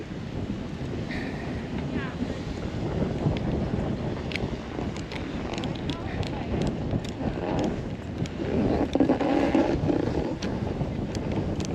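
Gusty wind at a ski resort buffets the microphone in a continuous loud rumble, rising in stronger gusts toward the end, with faint scattered clicks on top.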